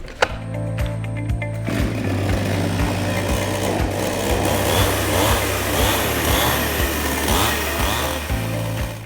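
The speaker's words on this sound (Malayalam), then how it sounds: "റീകോയിൽ വലിച്ച് സ്റ്റാർട്ട് ചെയ്യുക." A chainsaw started by a recoil pull sputters briefly, then catches and runs at a steady, loud, buzzing idle with a rhythmic chatter, close by and without speech.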